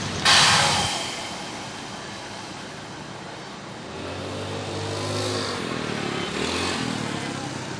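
Buses idle and pull away at the BPRS bus terminal in Pekanbaru, night buses bound for Siantar: a low, continuous engine rumble that builds into revving rises, with a brief clatter at the start.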